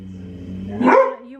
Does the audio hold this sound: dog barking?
yes